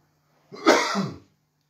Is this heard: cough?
yes